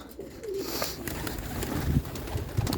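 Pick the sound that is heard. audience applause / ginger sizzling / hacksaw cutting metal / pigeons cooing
pigeons cooing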